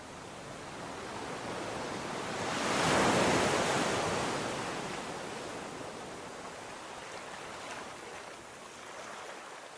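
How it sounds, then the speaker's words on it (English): Gentle ocean waves roll onto a sandy shore, a soft continuous wash that swells to a fuller surge and then recedes into a steady hiss, alone with no voices. "hear the sounds of waves gently rolling onto the shore"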